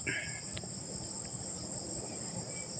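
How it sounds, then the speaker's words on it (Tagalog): Crickets chirp in a steady high-pitched drone on a quiet night in the countryside province, with a faint low background hum and a few soft distant sounds. "Wala kang marinig kundi kuliglig ng mga kuliglig dito sa aming kapaligiran."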